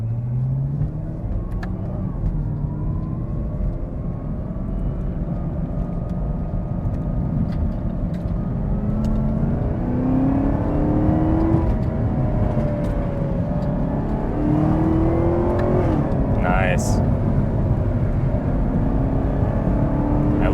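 A 2021 Chevrolet Camaro ZL1 drives at speed, its engine a loud, steady drone heard from inside the cabin. The pitch climbs in several rising sweeps as it accelerates.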